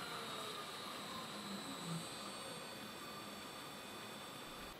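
Lathe spindle running, a steady continuous whir with a faint tonal whine that stays even throughout, moderately quiet, with no talking.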